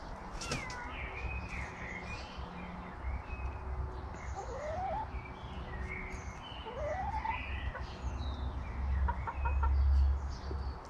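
Backyard hens cluck and chatter softly at a distance, with a few rising squeaky calls scattered through steady outdoor background noise.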